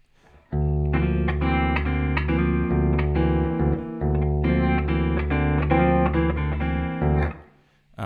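An electric guitar rings out a repeated single note on the fourth string over sustained chords, with distortion and effects, two phrases separated by a short pause.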